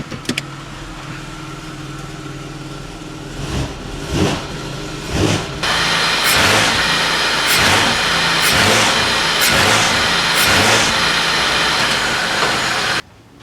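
A used car's engine idles in drive, then is revved repeatedly toward 2,000 RPM in a steady series of surges, each climbing and dropping back, loud and close with no talking.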